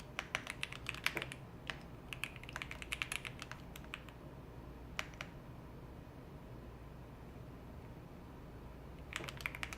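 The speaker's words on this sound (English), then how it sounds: "Keyboard is a Bubble 75. The switches are Aqua Kings" Typing on a Bubble 75 mechanical keyboard with Aqua King switches comes through as bursts of quiet, crisp clicking keystrokes, separated by pauses, close to the microphone with no speech.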